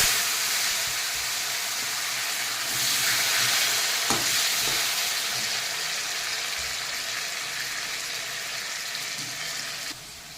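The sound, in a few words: potatoes frying in oil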